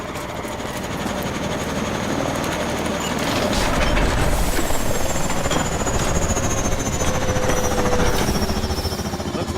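Warbird aircraft engine roar in the video game Call of Duty: Advanced Warfare, a loud, continuous rotor-like thrum with heavy rumble that swells slightly midway and holds steady throughout.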